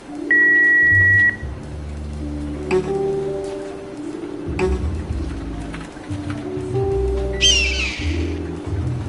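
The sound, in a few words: answering machine beep, from a video game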